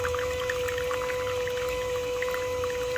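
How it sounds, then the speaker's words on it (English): Water pouring steadily from a VBM Domobar Super Elettronica dual boiler espresso machine into a cup during a rinse at 9 bar. It makes a continuous close trickle with a steady pump hum underneath, and no voices. "let's place a cup underneath and let's rinse some water"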